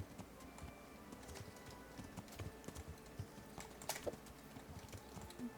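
Quiet clip-clop of horse hooves in the video game Kingdom Come: Deliverance, an uneven rhythm with scattered clicks, faint and low against a soft background.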